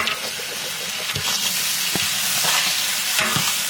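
Beans, capsicum and carrot fry in a pan with a loud, steady sizzle, stirring scrapes and taps cutting through, no voices.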